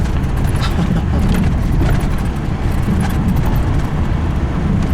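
A car drives along a mountain road below a dam, its steady low engine and tyre rumble filling the cabin at a constant level throughout, with no talking.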